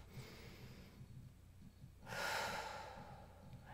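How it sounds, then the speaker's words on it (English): A single deep breath taken during guided mindfulness meditation, a soft airy inhale swelling about midway, close to the microphone and faint against a quiet background. "Now let's take one good deep breath"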